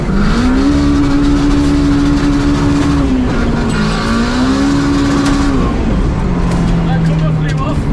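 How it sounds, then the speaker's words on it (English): A 500bhp Honda K20-swapped EK Civic running loud and close, with a steady, buzzy drone that shifts pitch up and down as the revs change. "So let's start the car up and have a look."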